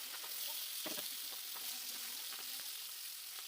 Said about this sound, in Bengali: দিয়ে দিলাম সর্ষের তেল পরিমাণ মতো, দিয়ে আমি মাছের মাথাগুলো ভেজে নিচ্ছি